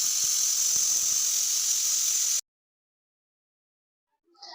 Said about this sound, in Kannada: ಕುಕ್ಕರ್ 4 ಸಲ ಕೂಗಿಸ್ಕೊಳ್ರಿ, ಚೆನ್ನಾಗ್ ಬೆಂದಿರುತ್ತೆ